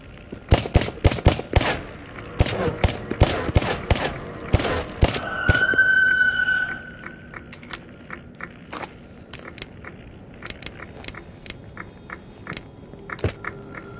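Rapid gunfire in the VR game Into the Radius, dense bursts of sharp close shots for the first few seconds, then scattered single cracks and clicks spaced out over the remaining stretch.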